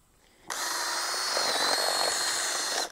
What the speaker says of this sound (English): take the drill, go through the cap area